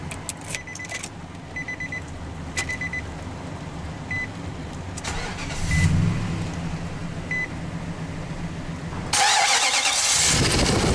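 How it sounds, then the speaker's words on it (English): Keys jingle and click near an idling hum, then a 2004 Nissan Titan XE King Cab 4x4 pickup engine cranks and catches, settling into a loud, steady running rumble. "let's go ahead and start the engine"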